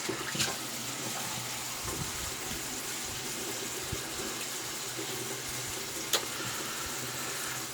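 A tap runs steadily in the background, a soft continuous stream of water with a couple of faint clicks.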